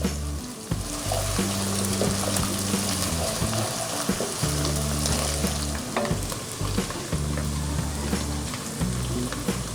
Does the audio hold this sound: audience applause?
no